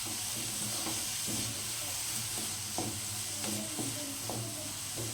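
Chopped onions fry and sizzle steadily in a pan for a mushroom gravy, a continuous loud hiss broken by scraping stirs and occasional soft clatters, with no voices.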